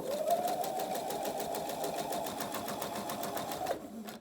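A sewing machine stitches a seam on a six-panel welding cap, running as a fast, steady mechanical patter of even needle strokes for a few seconds before stopping abruptly.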